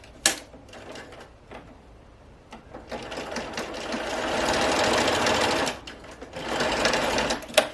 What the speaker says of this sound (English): I'm going to sew them together lengthwise